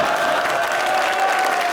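Studio audience at a talk show applauding, a steady dense wash of clapping hands filling the short stretch at a fairly loud level.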